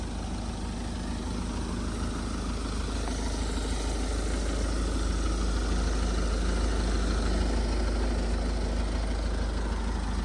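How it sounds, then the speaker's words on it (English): 2010 VW Golf GTD with its 2-litre TDI diesel engine idling, a steady low rumble heard close and continuous with no pauses. "This later engine is so much quieter than the earlier ones."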